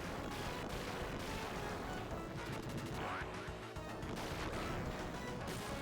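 Gunfire from the Gunstar Heroes video game, a dense, loud and unbroken barrage of rapid shots and crashing blasts that fills the whole stretch without pause.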